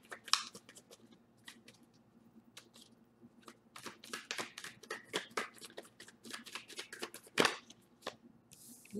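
A deck of tarot cards is shuffled close up in quick, crisp riffling bursts with short pauses, faint and intimate in a quiet room.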